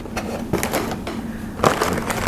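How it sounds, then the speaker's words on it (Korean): Unboxing a USANA health pack: plastic packaging crinkles and rustles in a steady stream, with a few sharper crackles and rips from tearing at close range. "자, 이렇게 언박싱 이렇게 하는 겁니다"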